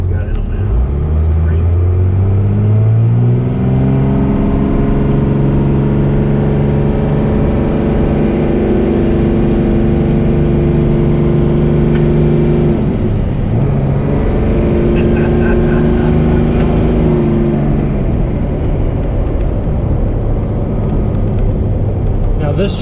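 A 24-valve Cummins diesel truck engine accelerates hard through the gears, its loud, steady roar rising in pitch, dropping at each shift and climbing again for over twenty seconds.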